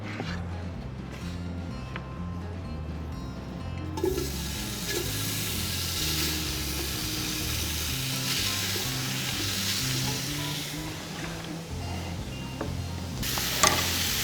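Chopped cabbage, bacon and onions hit a hot pot and sizzle loudly and steadily, a close continuous frying hiss that swells as more is added, with faint stirring and background hum and no talking.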